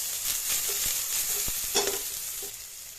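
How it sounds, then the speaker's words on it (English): Sliced onions, scallion, julienned carrots and chopped garlic sauté in hot chicken fat for ramen, giving a steady soft sizzle with occasional light stirring clinks and scrapes close by. "we add some sliced onions, scallion, julienne carrots, and chopped garlic. And let that saute"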